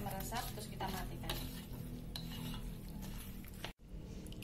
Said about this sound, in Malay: Kita aduk 5 menit kira-kira ya, sampai meresap, terus kita matikan.